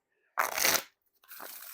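Bicycle Dark Mode playing cards are riffle shuffled in one close, loud burst of crisp fluttering snaps, then a quieter second pass of softer card movement follows after a short pause.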